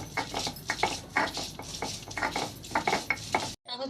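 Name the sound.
potatoes frying in mustard oil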